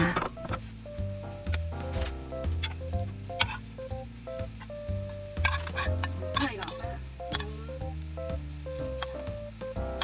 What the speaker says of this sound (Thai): คนนะจ๊ะ อย่าลืมคนนะคะ